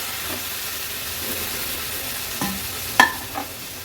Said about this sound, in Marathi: आता स्वच्छ धुतलेल्या ह्या हलव्याच्या तुकड्या आहेत त्या ऍड करूया.